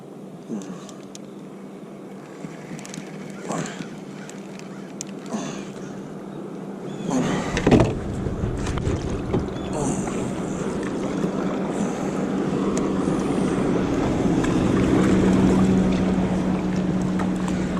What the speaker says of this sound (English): It's the second bass boat I've seen come up the lake this morning.